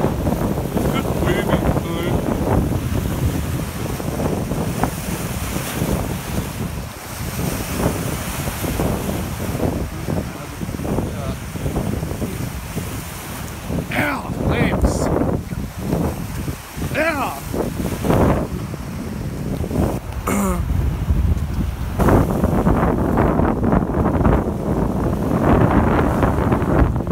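Waves surging against a seawall under strong wind, a loud continuous roar with wind buffeting the microphone and repeated splashing surges, with voices now and then.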